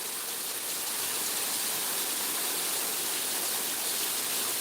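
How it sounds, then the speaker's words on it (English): A steady, full rush of falling water at a waterfall in Falling Waters State Park, Florida, broad continuous roar heard up close with no other sounds. "waterfall."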